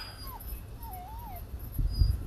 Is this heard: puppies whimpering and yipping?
yes